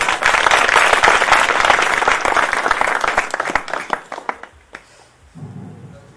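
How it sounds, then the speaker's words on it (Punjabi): A church congregation claps together in a loud, dense burst of applause that carries on for several seconds before thinning into scattered claps and fading out. "ਤਾੜੀ ਮਾਰ ਸਕਦੇ ਹਾਂ।"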